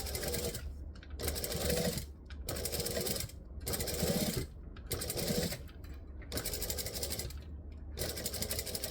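A sewing machine stitching fabric runs in repeated bursts of whirring mechanical stitching, close and steady, broken by short pauses between runs.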